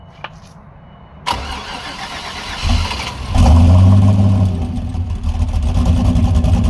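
A Mazda Miata with an LS swap and turbo cranks and catches, then settles into a loud, steady idle with a low rumble, close by.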